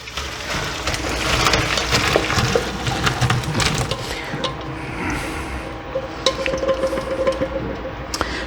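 Boiled potatoes drained from a pot, with water pouring and splashing into a colander and sink, a steady rushing pour with metallic clatter and clunks throughout.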